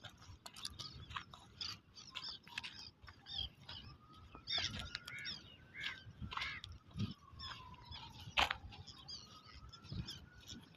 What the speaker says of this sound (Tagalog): Kasi maraming ibon.